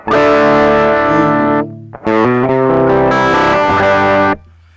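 Crunchy overdriven electric guitar chords through a Donner Dark Mouse mini distortion pedal in hyper mode, bright and clear, strummed twice with a short pause between, the second ending in a muted fade.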